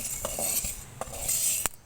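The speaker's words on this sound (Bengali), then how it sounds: "এটা এভাবে আস্তে আস্তে এভাবে নাড়াচাড়া করলে এটা সুন্দর ফুটতেছে" A spatula stirs black gram lentils dry-roasting in a hot pan, giving soft scraping and light clinking strokes that come in slow, irregular passes at close range.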